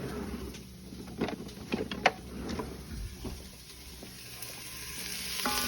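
Chopped onion sautés on a high stovetop setting for breakfast lentils, a steady close sizzle broken by a few sharp spoon scrapes and knocks as it is stirred.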